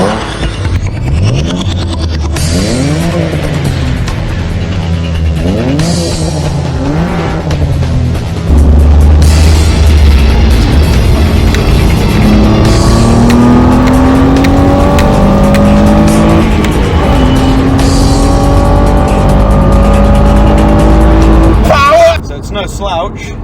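A Ford with a 3-litre V6 accelerates hard, its engine note climbing through several gears in repeated rising sweeps, loud and close from inside the car, easing off briefly between shifts before a final surge ends abruptly.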